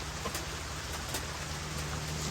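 Rain falls steadily outdoors, a soft continuous hiss of drops with a faint low hum underneath and no speech.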